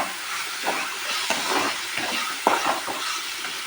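Tomato with turmeric and chilli powder frying in oil for a crab masala gravy, giving a steady close sizzle and hiss with a few brief stirring clatters.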